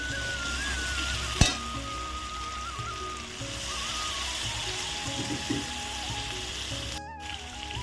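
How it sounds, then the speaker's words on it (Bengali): Prawn malai curry sizzles steadily in a hot pan, with a sharp clatter near the start and a brief dropout toward the end; no one speaks. "এখন আমি এর মধ্যে জল দিয়ে দেব।"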